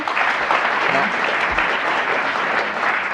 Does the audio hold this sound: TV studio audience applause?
yes